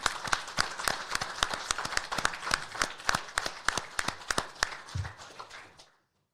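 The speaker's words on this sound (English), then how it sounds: "I'd like a round of applause for the guys that took the time to be here today." Audience applause at a college football coach's press conference: steady, dense clapping from a crowd lasting about six seconds, fairly close, then dying out abruptly.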